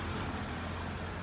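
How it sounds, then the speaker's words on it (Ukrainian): A car rolls by on a street in Antalya, Turkey, giving a faint, steady broadband road rumble with no distinct peak. "Їде машина."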